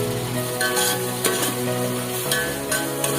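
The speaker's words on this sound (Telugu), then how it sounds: "అప్పుడే కట్ చేసి పెట్టుకున్న టమాటోలు వేసి" Freshly cut tomatoes fry and get stirred in a pan for Kerala biryani, a steady close sizzle broken by periodic scraping strokes of a spoon, with no voices.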